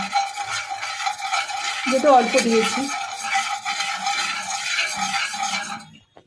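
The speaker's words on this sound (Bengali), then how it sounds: "ঘিটাকে আমি ছড়িয়ে নেব" Ghee stirred and spread with a utensil in a hot kadai, soft scraping and faint sizzle running steadily, with a brief louder clatter near the middle and someone speaking briefly over it.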